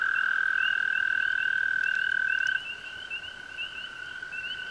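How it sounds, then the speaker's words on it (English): Spring peeper frogs call outdoors near grassy clumps and toads, a dense, continuous high-pitched peeping chorus that stays loud and steady throughout, then drops slightly in level partway through, with no voices. "Spring peepers are calling."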